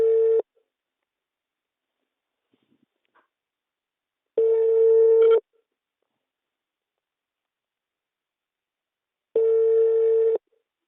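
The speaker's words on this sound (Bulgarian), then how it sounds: "Мисля, че ще звъни." A telephone ringback tone sounds while a call is placed, three identical steady buzzing tones about a second long each, separated by roughly four seconds of silence, clear and close.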